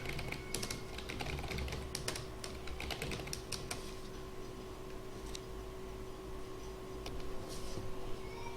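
Fingers tap on a computer keyboard in quick, irregular clusters of keystrokes, then pause and resume sparsely, close and soft over a faint steady electrical hum.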